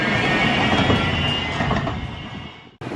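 Passing train at a station in rainy Portland, Oregon, a loud sustained rumble with screeching wheel tones that fade slightly before an abrupt cut.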